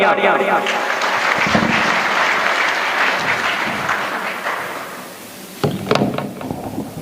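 A crowd at a political gathering in Dasuya, Punjab, for Manish Sisodia claps loudly and steadily for several seconds, then the applause fades and a few thumps and clatters follow.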